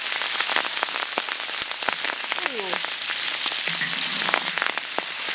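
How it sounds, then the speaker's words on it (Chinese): Pieces of eel sizzle and spit in hot oil in a well-seasoned pan, giving a dense, close crackle with sharp pops. Brief squeaky scraping sounds come through partway, and no one speaks. "在锅里加油，开始煎鱼。"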